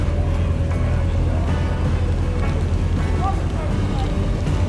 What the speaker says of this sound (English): I like the quad exhaust in the back, as you can see as it leaves.